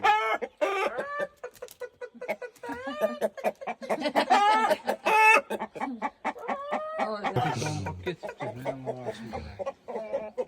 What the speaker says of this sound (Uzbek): tovuq boqayapman